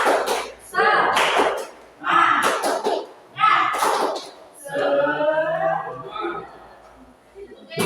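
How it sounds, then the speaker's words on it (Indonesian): Schoolchildren in a classroom stand and perform a rhythmic cheer, clapping in short patterned bursts mixed with group chanting voices, in several loud phrases separated by brief pauses. "Tepuk semangat."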